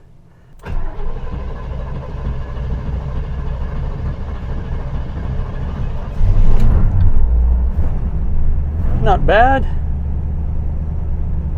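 A C3 Corvette's engine cranks and catches on its first cold start of the year, then settles into a loud, rough, steady idle with a brief revving surge. A person speaks briefly over the running engine.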